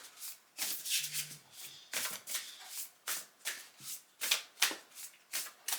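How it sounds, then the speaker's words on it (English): Oracle cards being shuffled by hand, a dozen or so crisp riffling bursts in a steady rhythm, close and soft, with no speech. "Let's pull some cards."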